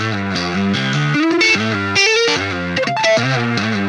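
Electric guitar played through a compressor pedal in BIAS FX 2 amp-modelling software, a clean, even, sustained melodic line with steady notes and chord stabs throughout, loud and alone.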